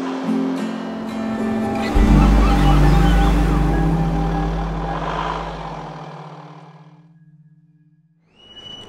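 Sea surf on the Mexican coast roars close and loud, swelling strongly, then gradually fading away, with a low steady hum running underneath.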